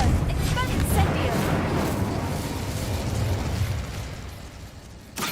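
Confringo explosion spell cast in Hogwarts Legacy, heard as a loud, dense blast at the start that rumbles on and slowly fades, with a second burst right at the end.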